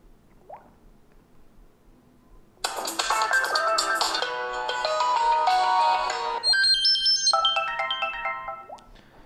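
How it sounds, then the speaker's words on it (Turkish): A phone ringtone plays from a handset after a water damage test, a clear melodic tune starting a few seconds in and running to the end, loud and close with no talking. "Hemen bir tane zil sesi açalım."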